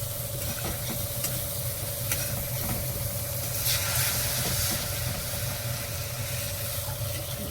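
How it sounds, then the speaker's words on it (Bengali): Hot oil sizzles and hisses steadily in a pan as water is added to well-fried spices, with occasional stirring scrapes and a faint steady hum in the background. "জল দিয়ে দিচ্ছি। মশলাটা ভালো করে ভাজা হয়ে গেছে, তেল ছেড়ে দিয়েছে।"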